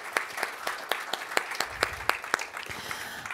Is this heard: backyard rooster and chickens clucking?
no